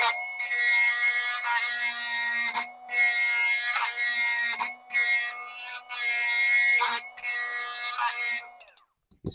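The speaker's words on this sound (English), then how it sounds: "You see how I'm grinding down there?" A rotary tool grinds plastic flashing off a Carrera Ferrari 599XX slot car body, giving a close, high whining buzz in several steady bursts broken by short pauses, then stopping at the end.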